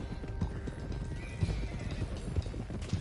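Horses being driven to Clemens Cove in the Red Dead Redemption 2 video game, a steady run of hoof clip-clops with a whinny, close and fairly loud.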